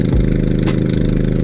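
Honda Civic hatchback fitted with a Megan Racing downpipe idling, a close, steady raspy exhaust drone with an even low pulse and a brief hissy burst midway.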